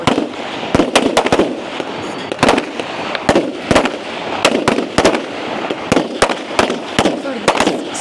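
Pistol shots ring out at a shooting competition stage, loud and sharp and fired in quick irregular bursts with brief pauses between strings, while a commentator talks over them.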